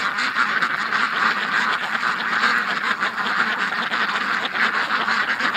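Several ducks quack repeatedly and overlapping, a busy chatter of calls at moderate distance with no pause throughout.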